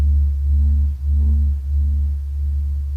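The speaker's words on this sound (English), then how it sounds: "That's the sound of the sun." A recording presented as the sound of the sun: a steady, deep droning hum with slow pulsing swells, one brief dip near the one-second mark, and nothing else over it.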